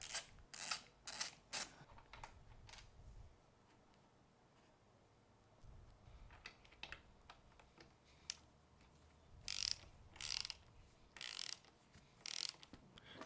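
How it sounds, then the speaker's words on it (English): A ratchet fitted with a T50 Torx socket backs out two motorcycle seat fasteners during a British Customs bobber seat install: close, crisp ratcheting clicks in short bursts, separated by a quiet pause, with no voices. "Using the same T50 Torx socket, remove the two fasteners that secure the seat to the frame."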